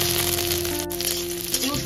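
Garlic frying in a small amount of hot white oil, right after dried red chillies, while preparing a Bengali prawn-head paste; a steady, close sizzle runs throughout over a faint background hum.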